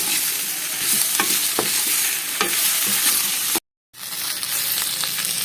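Pieces of raw banana and potato sizzle steadily in hot oil while a spoon stirs them, the frying hiss loud and close with clicks and scrapes of stirring, briefly cutting out before resuming.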